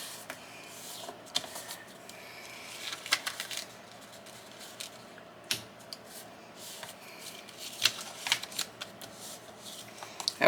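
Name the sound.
folding vintage paper postcards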